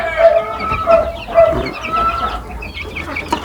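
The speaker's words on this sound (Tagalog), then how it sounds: "Ito pa rin yung 3 kong sisiw na galing doon sa incubator." Three young chickens hatched from an incubator cluck and peep in repeated short calls, loud and close, with a busy rustling background.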